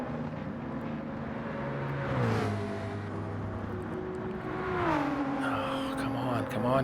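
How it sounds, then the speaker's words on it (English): Race cars in Gran Turismo at The Glen sweeping past the pit lane, engine tones rising and falling in two distinct passes over a constant drone, with a voice talking over them. "Pit speed limit while I hear the sound of cars driving by"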